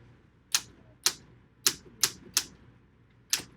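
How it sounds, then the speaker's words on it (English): A typewriter typing on lined paper, six sharp separate keystrikes in an uneven rhythm, close and clear with no talk. "Anybody got any questions about the typewriter?"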